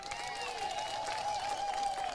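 A crowd claps and cheers at an outdoor political rally in Munyoro, Kenya, where Kalonzo Musyoka is being introduced. Dense, steady applause rises at a moderate distance, with a sustained whistle-like tone running over it.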